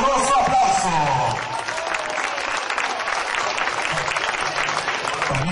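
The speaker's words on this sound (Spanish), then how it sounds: "pido un fuerte y caluroso aplauso" A crowd at a folk festival in Yecuatla, 2010, breaks into sustained, loud applause that lasts over five seconds, with a voice over a sound system briefly audible at the start.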